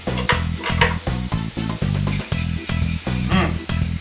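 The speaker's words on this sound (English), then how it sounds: "so our sauce is at a full boil right now" An orange juice and cream sauce bubbles at a full boil in a pan, a close, loud, busy sizzle broken into a steady rhythm of repeated pulses, with no voices.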